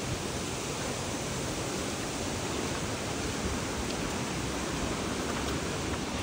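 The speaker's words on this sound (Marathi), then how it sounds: "पाण्याचा आवाज खूप आहे" Loud, steady rush of flowing water from a stream or waterfall, a dense broadband roar filling the whole span without a break or any voices, close and constant after morning rain.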